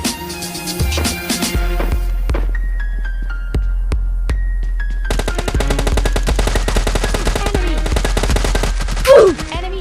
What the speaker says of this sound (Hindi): क्या गोली गोली चल रहा है का अंदर?